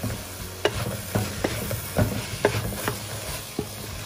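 A spoon scrapes and stirs a flattened rice mixture with cardamom in a pan, giving sharp irregular clicks and scrapes over a faint background hiss, close and alone.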